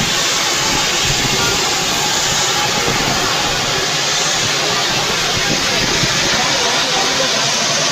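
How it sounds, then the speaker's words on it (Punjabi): CNG gas hisses loudly from a leaking truck tanker, a steady, roaring rush that never lets up, with faint voices buried beneath it. "ਟਰੱਕ ਦੀ ਗੈਸ ਥੱਲੇ ਫਟ ਗਿਆ ਮਗਰੋਂ ਗੈਸ ਨਿਕਲ ਜਾਂਦੀ ਆ"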